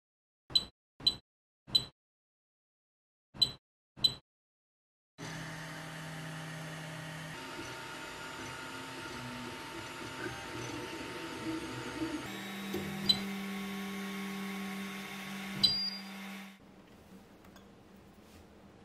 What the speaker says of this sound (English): I used an AnyCubic Mega S to print this heart shape